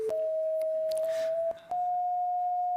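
A single steady electronic pitch from a head-mounted color sensor that turns the color of grass into sound via bone conduction, holding on with a small step up in pitch and a short break near the end.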